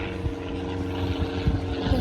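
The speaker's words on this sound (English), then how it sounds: "Circus Museum with planes flying overhead and with Shelley." Propeller aircraft droning steadily overhead outside the Ringling Brothers Circus Museum in Florida, a continuous low engine hum at moderate distance with faint voices underneath.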